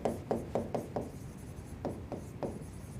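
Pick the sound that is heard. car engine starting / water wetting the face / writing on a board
writing on a board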